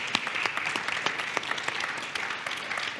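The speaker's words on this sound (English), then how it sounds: "So a round of applause for you" Audience applause for conference panelists at a forum stage, a steady patter of clapping lasting throughout at moderate volume with no voices over it.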